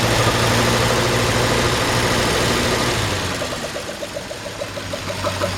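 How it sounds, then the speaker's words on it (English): A 1946 Ford truck engine idles steadily at close range, a low continuous rumble with a faint rhythmic knock that softens slightly partway through. "The engine just seems to run flawlessly."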